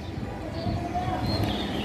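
Soft pigeon cooing under steady background noise, close and low, with faint chirps mixed in.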